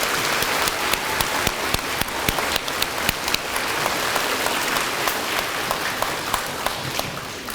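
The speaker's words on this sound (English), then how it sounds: "please give them a round of applause." Steady, sustained audience applause at a Hardin County Schools ExCEL Award celebration, dense clapping from a large crowd filling the room evenly from start to finish with no talk over it.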